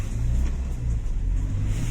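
A car stuck in deep snow on a mountain road near Shimla during a snowstorm revs its engine, a heavy, continuous low rumble that surges slightly, heard close with no talking.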